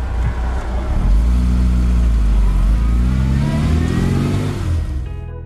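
An MG Midget pulls away under acceleration, its engine note rising through a gear and then climbing again, loud and near at first before it eases off and fades at the end.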